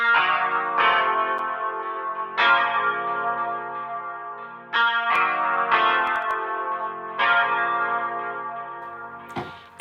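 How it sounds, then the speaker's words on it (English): Sustained, effects-laden electric guitar chords from a virtual instrument in Pro Tools ring out one after another, each struck and left to decay with chorus and echo. "It sounds just like an electric guitar for the most part."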